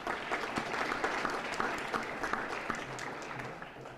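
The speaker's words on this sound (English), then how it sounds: "Let's give them all a round of applause." Steady round of applause from an audience at a formal announcement event, dense continuous clapping at moderate level that tapers slightly toward the end, with faint voices underneath.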